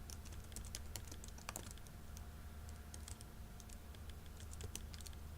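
Someone types an account name on a computer keyboard while setting up a chart of accounts in QuickBooks Enterprise, producing steady quiet key clicks in irregular rapid runs over a faint background hum.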